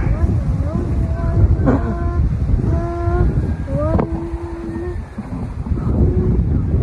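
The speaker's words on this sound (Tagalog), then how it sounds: "Paparating na yung malakas na hangin," Strong monsoon wind roars and buffets close to the microphone in a continuous rush while people talk over the noise, as an octopus kite flies in it.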